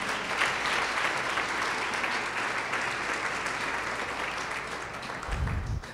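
A church congregation applauds in sustained, dense clapping that fills the space evenly, fairly loud and steady, with a low thump near the end.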